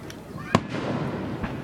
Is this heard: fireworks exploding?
yes